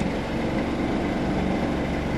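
A Jeep Wrangler engine with about 130,000 miles idles roughly and misfires, a low, continuous rumble, fairly close and unbroken, with no voices over it.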